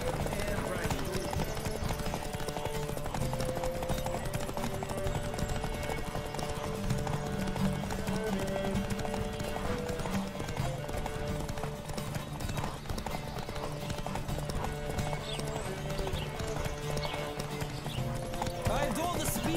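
Horses gallop in a race in the video game The Witcher 3, with steady rapid hoofbeats throughout and occasional whinnies, joined by a talking voice and game music.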